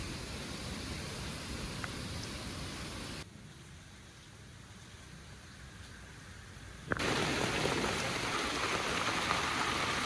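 Steady rain falls during a downpour, a dense broadband hiss that drops noticeably quieter for a few seconds in the middle before returning loud and close, with no voices.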